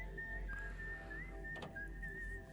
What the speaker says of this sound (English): I love this whistle.